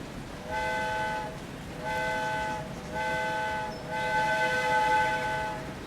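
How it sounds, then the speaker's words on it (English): A video-game train horn on an American railroad sounds four times in a row, three short blasts then a longer final one, over a low background rumble. No talking. "You can now go into the first-person camera of trains and honk the horns."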